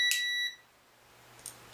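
A single short, high-pitched electronic beep from a multimeter continuity test on a CD changer power switch sounds at the start, then cuts off into near silence with a faint hum.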